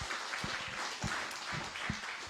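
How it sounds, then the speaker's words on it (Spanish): Church congregation clapping and applauding at a Spanish-language service, a fairly faint, dense patter with a few louder claps standing out. "Y pues otra vez un aplauso muy fuerte para nuestro Señor."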